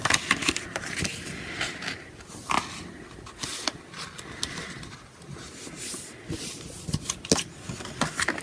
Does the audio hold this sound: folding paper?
yes